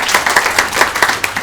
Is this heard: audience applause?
yes